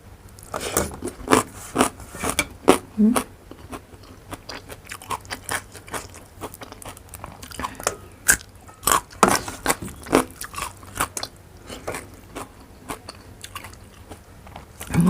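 Crunchy food, such as fresh neem-like leaves or vegetables eaten with fermented fish chili dip and sour curry, chewed close up in repeated sharp bites and crunches over about fifteen seconds, with no talk.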